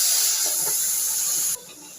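Tamarind water hitting hot roasted chillies in a tempering for neem flower rasam, giving a steady loud hiss and sizzle that cuts off abruptly near the end, with no talking.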